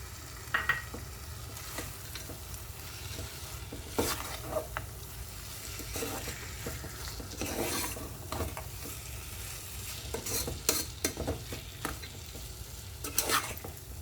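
Roasted dry fruits are stirred into sweet coconut poha pongal in a pot: soft continuous scraping and stirring over a faint sizzle, with intermittent louder spoon knocks and scrapes.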